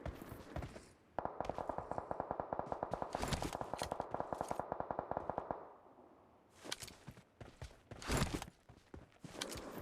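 Gunfire in the video game PUBG: a long run of rapid automatic shots in a tight, even rhythm, followed by scattered louder single bangs and footstep-like thumps. No voices.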